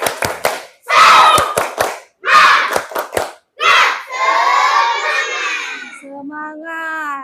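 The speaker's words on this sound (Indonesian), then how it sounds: "Tepuk tangan dulu." Children in a classroom clap out a rhythmic cheer in sharp bursts of clapping, mixed with shouted chanting voices. The cheer ends with a drawn-out group call.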